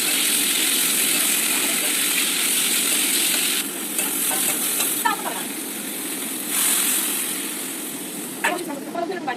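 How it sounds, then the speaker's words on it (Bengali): Cauliflower and potato sauté in a pan with a steady loud sizzle and hiss. Stirring scrapes come through intermittently, and a voice speaks faintly underneath. "ফুলকপি আলুটা দিয়ে আমি আবারও ভালো করে কষিয়ে নিচ্ছি সুন্দর করে কষিয়ে নিয়ে"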